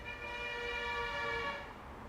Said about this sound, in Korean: 아 빵빵 소리